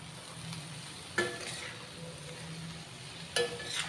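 Ponnaganti greens being stir-fried in a pan, a faint low sizzle under gentle stirring, broken by two sharp metallic clinks of a utensil against the pan.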